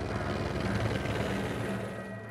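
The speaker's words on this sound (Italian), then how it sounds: "gli elicotteri finalmente possono decollare" A helicopter taking off for a mountain rescue in the Valais Alps, its dense rotor and engine roar steady and loud throughout, easing slightly toward the end.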